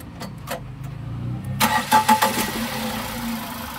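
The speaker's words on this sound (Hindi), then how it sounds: "मैं गाड़ी को स्टार्ट करूँगा" A car engine cranks with a few clicks and starter whirs, then catches with several quick revving bursts and settles into a steady close idle, heard during an ignition coil and wiring check.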